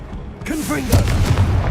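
Confringo blasting spell going off in a Harry Potter video game: a deep booming blast with a low rumbling tail, following a brief spoken incantation over game sound.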